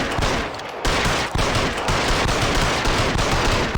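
Loud, sustained bursts of rapid automatic gunfire in the video game L.A. Noire, with a brief drop before the shooting resumes and continues densely to the end.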